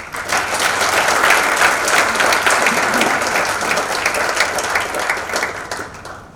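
A lecture-hall audience applauding warmly as a university speaker is welcomed to the stage, dense steady clapping that holds for several seconds before tapering off.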